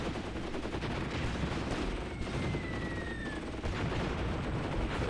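Gunfire in the WWII tactical game Graviteam Tactics: Mius Front, dense and continuous shooting with a steady rumbling wash of shots and no talk.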